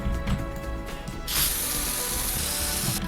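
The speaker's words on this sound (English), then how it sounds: "it uses the spray paint sound for the eraser as well." Sims 4 build mode eraser tool playing the spray paint sound effect: a short ratcheting rattle followed by a steady loud hiss of sprayed paint, clear and alone.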